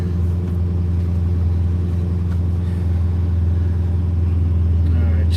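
A vehicle engine with its stock exhaust idles in a loud, steady low rumble close by, holding an even throb throughout.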